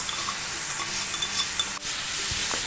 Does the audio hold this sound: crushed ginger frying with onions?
yes